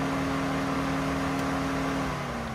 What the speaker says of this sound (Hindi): गाड़ी बंद होने के बाद में भी ये आपका जो फैन होता है ना वो चलता ही रहता है, आवाज़ आ रही होगी आपको